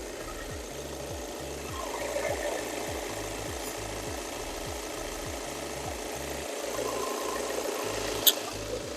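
Car engine idling smoothly in a 2015 Renault Espace or Volkswagen Passat B7, a steady low rhythmic chug close by with a faint whir above it and a brief click near the end.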